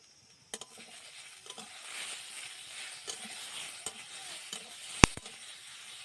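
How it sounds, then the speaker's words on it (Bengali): Vegetables with onion, ginger and chili paste being stirred in a pan for a fish curry with potato and eggplant, a quiet scraping sizzle with scattered utensil taps and one sharp clink near the end. "দিয়ে দিলাম পেঁয়াজ বাটা, আদা বাটা আর লঙ্কা বাটা দিয়ে সবজি আর মশলাটাকে একটু নেড়ে চেড়ে নেব"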